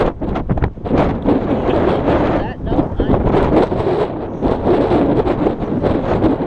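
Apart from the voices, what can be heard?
strong wind blowing on the microphone outdoors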